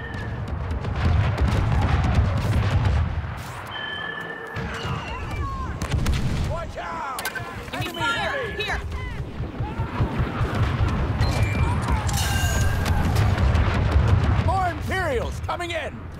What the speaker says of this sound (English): Paint your target and we'll rain fire. Orbital barrage, here.